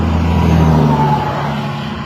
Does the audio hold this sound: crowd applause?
no